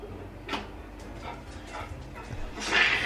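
An excited dog on its birthday gives a few short barks and yips at moderate distance, with one louder, sharper bark near the end over a faint background hum.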